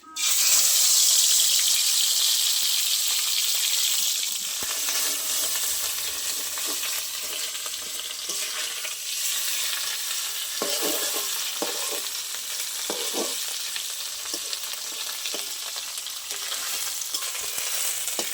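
Fish roe coated in salt and turmeric hits hot mustard oil in a wok with a loud initial hiss, settling into a steady close sizzle with a few scraping stirs near the end.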